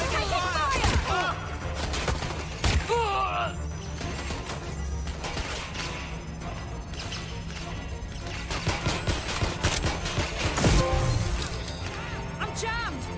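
Gunfire in the video game Watch Dogs: Legion, a dense fusillade of sharp bursts and crashes that runs throughout, loud and close under shouted voices.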